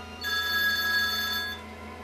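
A telephone bell rings continuously for over a second, a bright sustained electronic trill that starts abruptly and fades, heard close and alone over a low steady hum.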